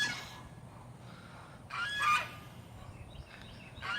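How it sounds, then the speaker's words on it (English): Fat chickens in a backyard flock give honking, goose-like calls in a few short bursts, close and fairly loud, with quiet gaps between them and no talking. "look at those fat, cute chickens"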